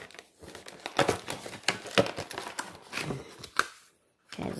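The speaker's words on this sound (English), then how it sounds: "we're gonna pull the very first piece of paper out" A piece of paper pulled from an airgun box for a Gamo PR-776 .177 pellet revolver: close, quiet crinkling and rustling in uneven bursts, then a short pause and one last rustle; nobody talks.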